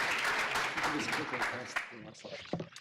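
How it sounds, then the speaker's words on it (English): A burst of audience applause with scattered claps, loud at first and gradually thinning out over about three seconds. "Yes, round of applause."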